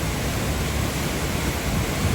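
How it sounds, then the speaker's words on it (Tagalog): Strong current of flood water rushing out of the Marikina river, heard as a steady, dense roar of broadband noise that continues unbroken throughout without any voices. "agos na ngayon nung tubig na palabas dito sa ilog."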